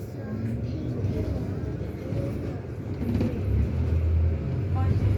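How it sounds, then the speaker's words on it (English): A Waitrose lorry overtaking a route 71 bus on a suburban road near Surbiton, heard as a steady, building low engine and road rumble close by that swells toward the end. "Being overtaken by a Waitrose lorry"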